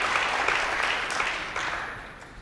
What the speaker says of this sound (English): Stand by for a huge cheer for Neil Robertson.